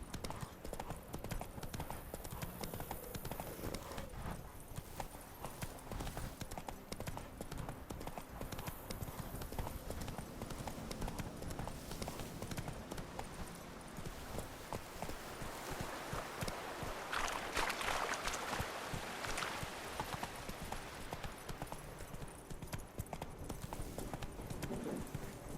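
Steady clip-clop of horse hooves at a quick pace in The Witcher 3: Wild Hunt, continuous over a bed of outdoor ambience, with a louder rushing swell partway through.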